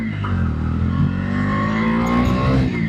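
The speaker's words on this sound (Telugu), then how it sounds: "6th గేర్ కూడా వేసా చూద్దాం. నేను ఫాస్ట్గా వెళ్తున్నా." A Bajaj Dominar 250 motorcycle, a 2026 model, is ridden fast in sixth gear. Its engine drones in a steady, loud, continuous roar with a faint upward pitch sweep as it speeds along.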